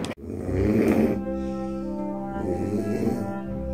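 Loud, deep snoring with a rough, rattling texture, drawn out in two long breaths close to the listener with no talk over it.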